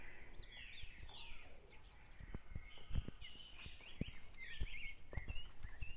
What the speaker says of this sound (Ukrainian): Дерева цвітуть, пташки співають.